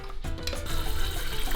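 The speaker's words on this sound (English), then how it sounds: "That's where I fill my water up to." Tap water runs into the base of a Cuban stovetop coffee maker, starting with a short clatter and then settling into a steady, close splashing stream, no voices.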